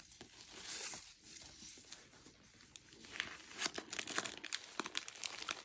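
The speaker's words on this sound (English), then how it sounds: "we got the beautiful blue bow to unwrap it" Blue ribbon bow untied from a drawstring gift bag, heard as soft, close crinkling and rustling of fabric and paper, quiet at first and then building into denser crackles toward the end.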